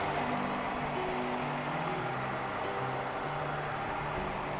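A 2013 Chrysler 300S with its 5.7 liter Hemi V8 runs steadily at idle, a low, even rumble with a faint knocking texture that holds at a moderate level throughout, with no talk over it.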